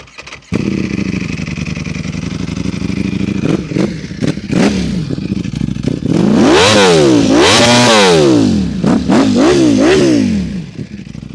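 A Ducati Panigale V4R sport motorcycle engine fires up and idles, then revs hard several times in quick rising and falling bursts, loud and close.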